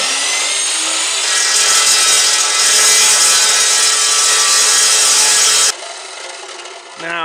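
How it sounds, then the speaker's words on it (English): A chop saw with a hard blade cuts the end off a trailer ramp, a loud close grinding screech that holds for several seconds before stopping abruptly as the blade spins down. "go ahead and square it up by cutting off just a tip bit and a chop saw"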